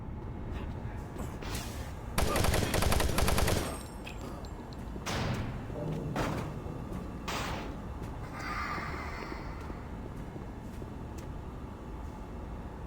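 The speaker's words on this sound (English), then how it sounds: "The wrong gun to be shooting him with." Gunfire in the 2004 PC survival-horror game Doom 3, set on Mars: a dense burst of rapid shots, then scattered heavy thuds and mechanical impacts over a constant dark ambient rumble, with a voice speaking underneath.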